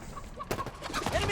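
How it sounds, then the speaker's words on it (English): Chickens in Halo Infinite cluck in short scattered bursts amid game noise and faint background voices, brief and moderately close. "There are actually chickens running around."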